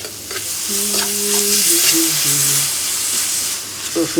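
Khichuri of rice and lentils stirred and fried in ghee in a pan, giving a loud continuous sizzle with scraping stir strokes, while a voice speaks faintly beneath.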